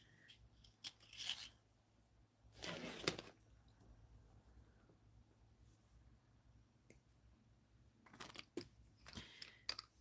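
Scissors snip through bracelet cord on a craft table, giving a few short, crisp clicks spaced apart with one fuller cut in the middle, close and quiet over a low background hum.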